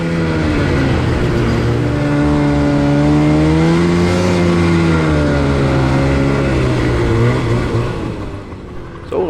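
An old Elan snowmobile runs along a groomed snow trail, its two-stroke engine droning loud and steady with rising and falling pitch, then easing off near the end.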